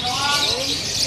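KLX lovebird chirping in a short run of bright, rising tweets over a steady background hiss, fairly loud and near.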